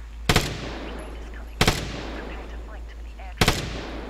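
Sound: light machine gun firing in Vigor (video game)

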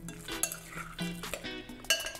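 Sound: spoon mixing meatloaf ingredients

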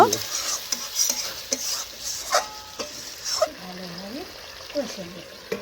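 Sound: stirring mutton in a pan after adding water

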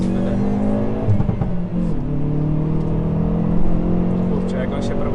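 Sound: Hyundai i30N Performance exhaust popping at high revs

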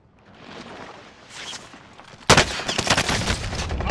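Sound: gunfire in the video game Call of Duty

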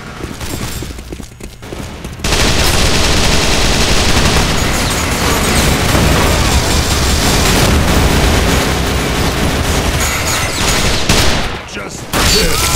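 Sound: gunshots in the Repulse video game

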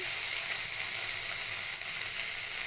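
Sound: ginger, garlic and onion frying in a pan

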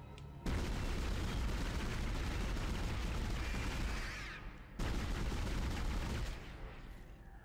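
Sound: rifle gunfire in the video game Dead Space

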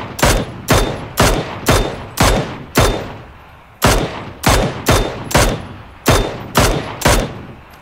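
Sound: gunfire from a weapon in the video game PUBG

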